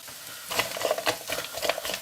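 Celery, onions and mushrooms cook in olive oil in a pan, with a soft sizzle broken by several quick scraping stirs; quiet and close, with no talking.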